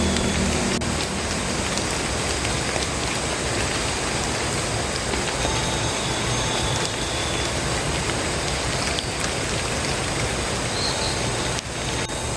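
Steady, close rain patters on surfaces throughout, a dense even hiss of light drizzle with no voices, at a campsite at the foot of Mount Susuru.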